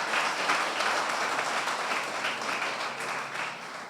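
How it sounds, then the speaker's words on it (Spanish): A church congregation applauding during a sermon, a dense, sustained wash of many hands clapping that fills the room evenly and fades slightly toward the end, with no talking. "Dale un aplauso al que vive en esta hora"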